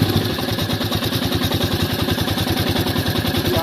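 A Royal Enfield Meteor 350 idles loudly up close with a tappet fault, its steady low engine rumble carrying a rapid, regular ticking clatter throughout.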